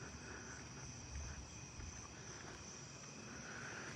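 Narrow-winged tree crickets chirp steadily in an outdoor neighbourhood at night, a faint continuous insect trill spread across the background with no pauses and no voices.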